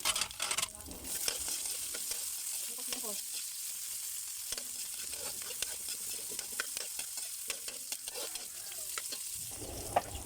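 Garlic and onion sauté in a pan, a continuous close crackling sizzle with occasional stirring scrapes, steady for about ten seconds.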